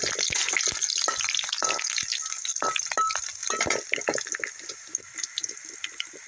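Chopped green chillies and garlic sizzling and crackling steadily in hot oil in a pan, a continuous bright frying hiss with scattered pops and clinks throughout.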